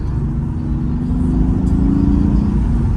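A Mercedes AMG GT in sport plus mode gives off a steady, loud, low engine and exhaust rumble from inside the cabin, holding an even drone throughout with no talking.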